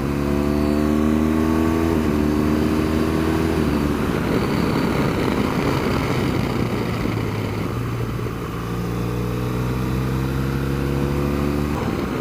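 A 2016 BMW R 1200 GS Adventure motorcycle in dynamic mode carves through curves, its engine droning loud and close with rising revs and gear shifts, under heavy wind rush.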